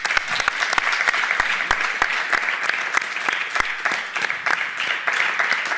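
An audience at a live Catalan-language show gives steady applause, a close, even patter of many hands clapping for several seconds without talk.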